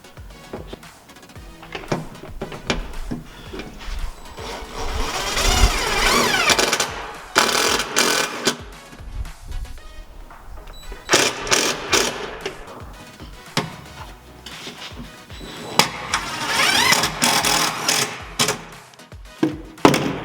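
A small power tool drives a screw into a connection on a boat switch panel, whirring in several buzzing bursts with pauses and clicks between them, close and loud.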